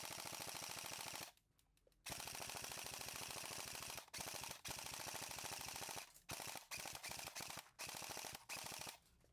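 Bolt electric blowback airsoft rifle, an MP5-style gun, firing full auto in several sustained bursts with short pauses between them, loud, close and continuous rattling with no talk.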